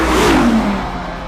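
Audi R8 Plus with its 610-horsepower V10, a loud, close engine burst whose pitch swoops downward as the revs fall away, brief and alone.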